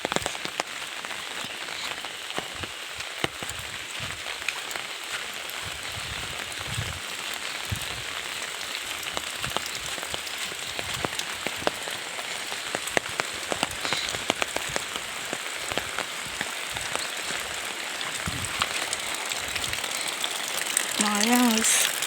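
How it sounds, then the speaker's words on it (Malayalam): Light rain falls steadily over outdoor surfaces on a walk to a village shop, a dense close patter of drops lasting throughout, with occasional faint voices and a louder thump near the end. "മഴയാണ് പൊടിയുന്നുണ്ട്"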